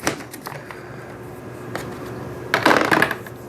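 A knife slices open a seed potato on a hard surface, giving a few short crisp cuts and taps, with a louder burst of cutting near the end, close by and without speech.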